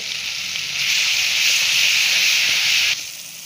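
A spoonful of thecha with garlic, green chili and curry leaves sizzles in hot oil in a pan, a loud, steady hiss that swells and holds for a few seconds before easing down.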